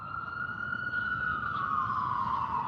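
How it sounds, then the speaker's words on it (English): An emergency siren passing outside, a single steady wailing tone that slowly falls in pitch as it goes by, continuous and moderately loud over a low rumble of background noise. "There's always ambulances around here,"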